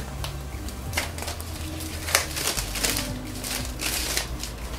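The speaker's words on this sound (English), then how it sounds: "I need to cut this plastic and that tape too." Plastic wrap and tape are cut and peeled off a Tecno Camon 16 Premier phone box, with crinkling, scraping and short tearing rustles up close and a low hum underneath, no talking.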